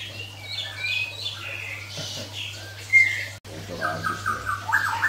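Oriental magpie-robins chirp and tweet in short bright bursts, fairly close, with a low steady hum underneath.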